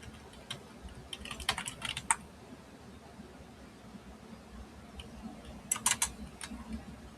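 Typing on a computer keyboard comes in short bursts of quick clicking keystrokes, close and fairly faint over a steady low background hiss, with pauses between the flurries.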